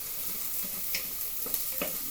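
Lentils or aromatics browning in a hot pan for Sudanese lentil soup, giving a steady, close sizzle with a few brief pops and stirring scrapes.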